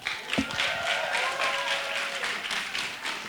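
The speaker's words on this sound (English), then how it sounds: "Big applause." An audience applauds at a Physician's Oath ceremony, a thick sustained wash of clapping with a single low thump early on and faint tonal sounds drifting underneath.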